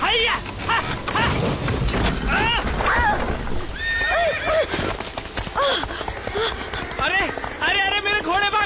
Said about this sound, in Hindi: अरे मेरे घोड़े भाग गए